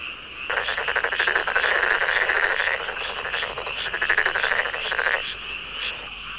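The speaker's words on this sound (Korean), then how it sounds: "논을 가득 채우는 요란한 울음소리" A rice paddy rings with male frogs croaking, a close, loud chorus of fast rattling pulses that starts abruptly, holds for about five seconds, then cuts off, leaving quieter background calls.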